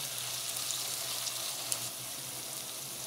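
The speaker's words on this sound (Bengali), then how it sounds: "আমি সব সময় পেঁয়াজ আলুটা একসঙ্গেই ভেজে নিই" Potatoes and onions fry together in a pan with a steady, quiet sizzle and occasional small crackles. No voices can be heard.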